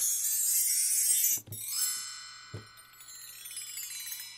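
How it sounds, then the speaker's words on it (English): Orchestral chimes and bell trees from a ProjectSam Lumina sample library: a bright shimmering cascade of bells, then two soft struck hits followed by ringing metallic tones that fade out. "another one that I absolutely like is obviously the chimes, the bell trees, this stuff."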